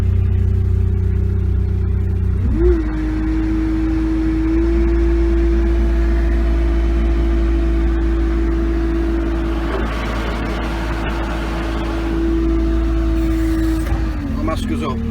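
The mast of a Combilift C4000 forklift is raised by pulling a lever: a steady hydraulic whine climbs in over the engine's low rumble, holds for about twelve seconds, then drops away.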